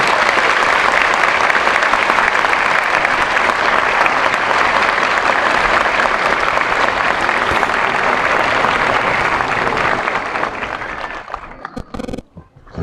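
A large audience at a stage event gives loud, continuous, roaring applause as a guest is welcomed on stage, holding steady for about ten seconds before tapering off.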